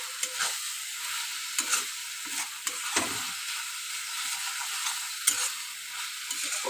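Chicken with black pepper fried and stirred in a pan for a chicken and pointed gourd curry, steady close sizzle with repeated scraping stir strokes and small utensil clicks, no voices.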